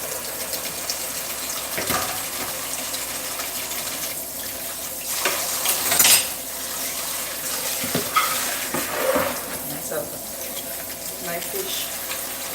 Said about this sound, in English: before I give my fish a wash